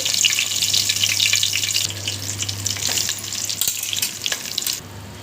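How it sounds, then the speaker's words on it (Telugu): Eggplant pieces frying in hot oil for a stuffed brinjal curry, a steady close sizzle and crackle running throughout with a low hum underneath and occasional stirring clinks. "ఇప్పుడు ఆయిల్లో వంకాయని వేసుకోండి"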